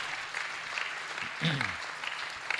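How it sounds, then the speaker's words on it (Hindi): An audience claps steadily at a Hindi comic poetry show. The dense, even applause fills the room, and a brief voice cuts through partway. "नहीं देखा हो तो हर व्यक्ति ईमानदारी से ताली बजा के बताना"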